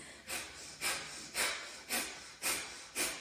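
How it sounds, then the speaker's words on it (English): Yoga breath of fire: six sharp, rhythmic nasal exhales about half a second apart, each a loud breathy puff through the nose driven by belly pumping, close and alone with no talking. "So the breath is going to be sharp diaphragmatic breathing in and out through your nose while you pump your belly."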